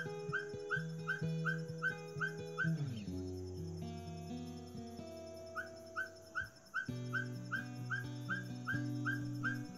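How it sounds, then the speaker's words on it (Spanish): A ferruginous pygmy owl (Glaucidium brasilianum) near urban green space gives a steady series of short, evenly spaced whistled toots, pausing briefly midway, over a continuous tonal music bed. "su llamado característico puede escucharse cerca de áreas verdes urbanas"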